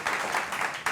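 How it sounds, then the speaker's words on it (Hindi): An audience at an interview event claps in a short burst of applause, a dense patter of many hands that stays fairly loud for about a second with a brief surge at the end. "युवराज सिंह के लिए तालियां इस मंच से बनती है"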